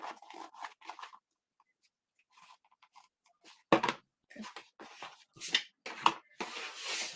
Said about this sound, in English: I'm just going to trim off some of these threads